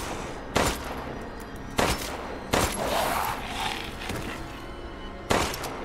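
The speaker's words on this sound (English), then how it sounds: "Okay, I guess gunshots don't do too much." Four sharp, loud gunshots in the video game Resident Evil Village crack out at uneven intervals, each leaving a brief echoing tail over a low background rumble.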